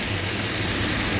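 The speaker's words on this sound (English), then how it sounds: "Oh, it's raining." Heavy rain falls continuously in Saguaro National Park, Arizona, a dense, even hiss with a low rumble beneath and no pauses, close and loud throughout with no voices.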